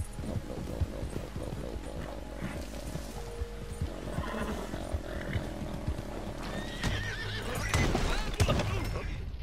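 A horse in the Red Dead video game neighs and whinnies near the end, with hoofbeats clopping and game ambience underneath and a voice talking at times.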